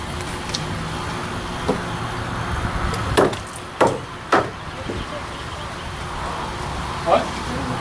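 Wooden deck steps are pried and torn apart outdoors, several sharp cracking thuds and knocks over a steady background of road traffic, with people talking.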